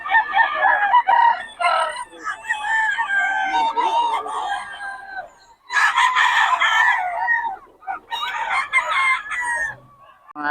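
Stag gamecocks crowing repeatedly at a busy Bocaue market, loud and near, with long harmonic crows overlapping one another and clucking, while faint voices murmur in the background.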